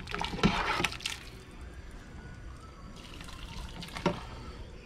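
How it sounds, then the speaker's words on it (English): Chicken soup broth with chunks ladled into glass canning jars, a close liquid pour and splash near the start, a quiet stretch, then another short splashy pour near the end. "Now we're going to get some broth and that other nice good stuff that's in there."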